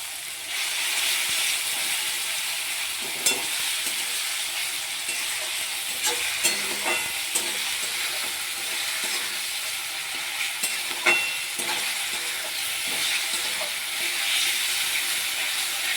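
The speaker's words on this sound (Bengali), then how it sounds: "যতক্ষণ ভাজা ভালো করে না নরম হবে ততক্ষণ একটু নাড়তে থাকবে" Spice masala with ginger-garlic paste frying in a pan while being stirred, a steady hiss and sizzle broken by scraping clicks of the spoon, close and continuous with no talking.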